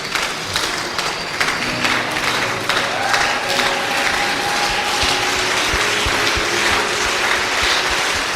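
A church congregation in Dakar applauds together in a loud, dense, continuous wash of clapping, with sustained tones from music or voices running through it.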